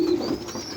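A white pigeon coos inside a loft, giving one soft, low, close coo that fades into faint room ambience.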